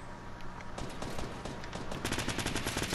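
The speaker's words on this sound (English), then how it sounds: "there's a lot of shots here, dude. I just don't know where they're coming from" Steady, dense gunfire crackles nonstop in a Fortnite Battle Royale match, with many rapid overlapping shots from several guns forming a busy, continuous barrage.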